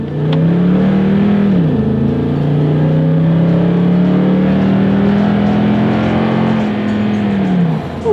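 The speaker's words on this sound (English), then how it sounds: "let me do a quick little acceleration in this mammoth" A 2016 Toyota Tundra SR5 pickup accelerates from inside the cab. Its engine note is loud and droning, rising through the revs, dipping briefly at a gear change, then holding a steady climbing pitch before easing off near the end.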